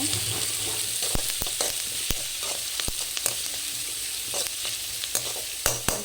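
Chopped banana flower is stirred in a sizzling frying pan, with sharp scraping knocks of a spoon against the pan coming irregularly over a constant frying hiss.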